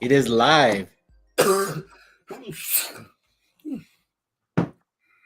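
A person speaks briefly, then lets out a sharp sneeze up close, followed by a few short breathy sounds.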